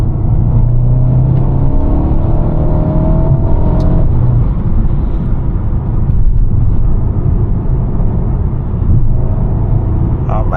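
A 2021 Mercedes-Benz A250 with a 226 hp engine and seven-speed AMG Speed Shift gearbox drives along a road, its engine drone and road rumble steady and close throughout, with tone shifts as it accelerates through the gears.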